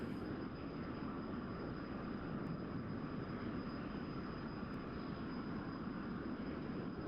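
Inside the DCS flight simulator, an F-100D jet engine gives off a steady, faint, broadband roar with an even hiss and no changes in pitch throughout.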